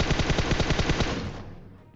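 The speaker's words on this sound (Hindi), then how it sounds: "उसका टीममेट कवर फायर भी तगड़ा दे रहा है बिल्कुल" Automatic gunfire in the mobile game PUBG Mobile: a fast, even burst of around a dozen loud, close shots that stops abruptly and leaves a fading echo.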